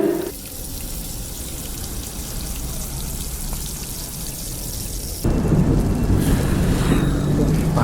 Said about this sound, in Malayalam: എന്താ മഴ